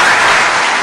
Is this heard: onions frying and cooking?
no